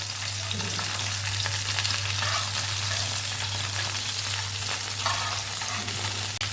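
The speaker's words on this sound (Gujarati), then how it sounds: "ટમેટાને બે સાઈડથી આપણે પકાવવાના છે એની છાલ ઉતરી જાય ને ત્યાં સુધી આપણે સરસ પકાવવાના છે" Whole tomatoes frying in a pan for Gujarati tomato chutney, a steady close sizzle and crackle with a constant low hum underneath, no talk.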